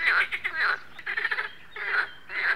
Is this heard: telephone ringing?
no